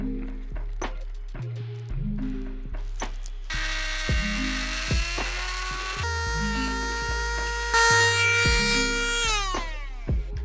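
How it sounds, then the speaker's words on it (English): A die grinder cuts switch panel material for a Ford Next Gen Ranger, its motor buzzing in short repeated bursts that rise to a sustained high whine, close and fairly loud with brief stops between passes. "and do the same with the die grinder."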